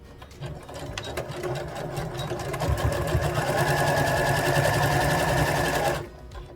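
A sewing machine runs steadily for about five seconds, stitching a seam on a hoodie sleeve 1.5 centimetres from the edge, close and even in tone, then stops abruptly, with no talking.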